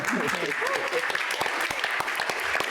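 An audience at a museum lecture claps steadily, crisp individual claps audible within the dense applause, while a voice speaks over the first second.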